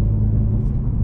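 An Audi engine at wide open throttle with a throttle controller fitted, a steady, loud, low rumbling drone heard close up without speech.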